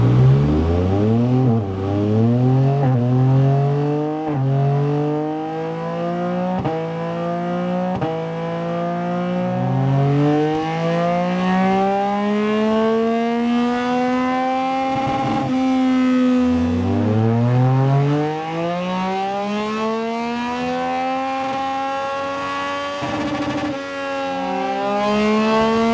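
A Yamaha MT-09 motorcycle fitted with a BHP UK exhaust revs repeatedly, each blip rising sharply in pitch and falling back, with longer sweeping revs later on, loud and close throughout with no talking.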